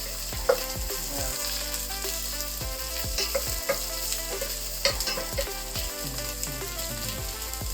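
Crushed lemongrass sautéing in a pan, a strong sizzle broken by repeated scraping and stirring strokes of a utensil against the pan.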